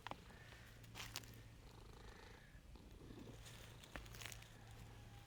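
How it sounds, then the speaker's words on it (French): A steady, low rumbling purr from a cat close by, continuous throughout with faint rustling in the background. "Le gros chat."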